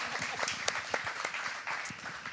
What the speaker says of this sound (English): Well, you can applaud for that.